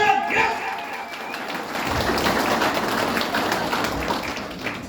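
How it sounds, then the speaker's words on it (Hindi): Audience clapping fills a gathering, a dense steady patter of many hands running throughout with voices mixed in underneath. "तालियां कर दो ना।"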